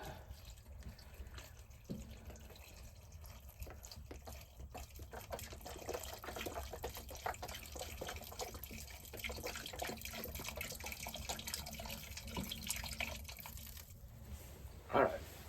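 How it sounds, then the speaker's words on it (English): Beef broth pours into a pot while camping in a tiny cabin in winter, a soft steady liquid splashing and trickling that runs for about fifteen seconds, fairly quiet and close. "So now I'm going to add some beef broth."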